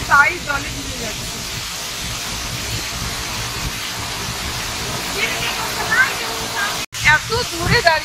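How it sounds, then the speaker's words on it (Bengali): A large mountain waterfall on the Beshisahar–Dharapani road in Nepal, heard as a continuous roaring rush of falling water, loud and steady, with people talking over it and a brief dropout near the end. "এত দূরে দাঁড়িয়ে আছি ঝর্ণার থেকে, তাও ঝর্ণার জল গায়ে লাগছে।"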